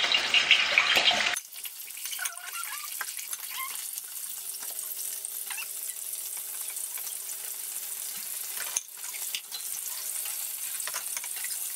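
Meat sizzles steadily in a hot pan for Nigerian egusi soup, a constant close frying crackle after a brief louder clatter at the start, with no talking.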